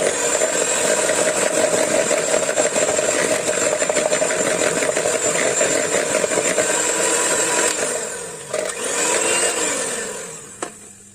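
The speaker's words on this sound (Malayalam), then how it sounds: "ബീറ്ററായിട്ടും ഏറ്റവും ലോ സ്പീഡിലിട്ടിട്ട് ഒന്ന് ബീറ്റ് ചെയ്യാം." An electric hand beater runs steadily at its lowest speed, mixing toffee pudding. The motor keeps up a constant close whir, dips briefly near the end and then returns.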